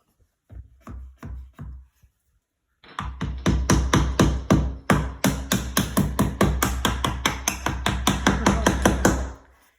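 Rapid hammer blows on a nail or board, a few sharp strikes at first, then a pause and a long steady run of loud, close, evenly spaced hits.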